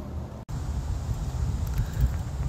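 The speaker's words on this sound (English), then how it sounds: "Super windy out today" Low rumbling wind buffets the microphone in steady gusts outdoors near Flagstaff, Arizona, broken by a brief cut near the start.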